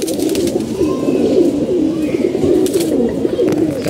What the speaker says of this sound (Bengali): এই যে একটা কবুতর দেখতে পাচ্ছেন